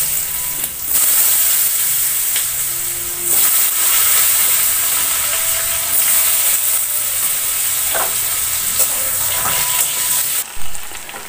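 Potato pieces and meat frying in hot oil in a home kitchen, a loud steady sizzle and hiss running throughout with brief breaks in intensity and occasional small pops.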